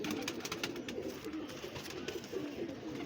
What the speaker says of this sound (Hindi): ये कलदुमा कबूतर है